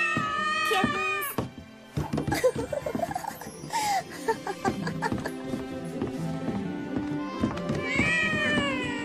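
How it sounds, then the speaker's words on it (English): Cartoon kittens meow in a series of high, bright cries, some overlapping, mixed with a few thumps, close and clear. "Kittens!"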